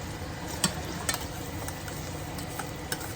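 Garlic simmers quickly in a pan for bigan choka, a soft, even sizzle and hiss, close and fairly quiet, with a few light taps of a utensil scattered through.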